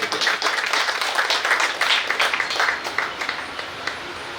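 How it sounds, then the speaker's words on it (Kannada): A sustained burst of applause from a crowd at a gold and diamond jewellery store opening, many hands clapping steadily for several seconds before tapering slightly toward the end. "ಜೋರಾದ ಚಪ್ಪಾಳೆಗಳು"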